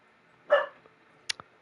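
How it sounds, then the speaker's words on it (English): Bailey, a dog dreaming in her sleep, gives one soft muffled bark followed by a couple of faint short yips, quiet and close in an otherwise still room. "I think my dog Bailey's dreaming again because she's barking out nothing."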